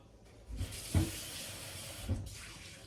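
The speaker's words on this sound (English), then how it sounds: "Put some water in that egg." Water poured from a tap into a frying pan of lightly whisked egg for an omelette, a brief splashing rush lasting about two seconds with a couple of soft knocks, close and fairly quiet.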